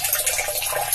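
Water trickling slowly into a basement storage tank, a steady close hiss of running water without break.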